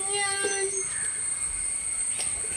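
A kitten in a garden gives a short, high meow near the start, then falls quiet over a steady high-pitched whine in the background.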